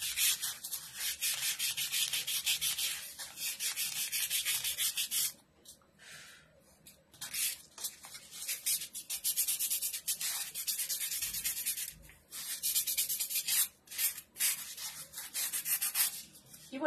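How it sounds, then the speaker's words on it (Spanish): Hand sanding along the edge of a wooden circle, a steady close rasping rub in long continuous strokes with a few brief pauses, no talking. "Y vamos a voltearlo, chicas. Y a lijar también del lado que"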